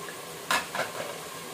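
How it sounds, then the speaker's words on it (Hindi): Yakhni meat stock is poured into fried masala for beef Sufiyana pulao, giving a brief splash and a second hiss that settle into a soft, quiet sizzle. "ये यखनी पूरी इसी में डाल लेंगे।"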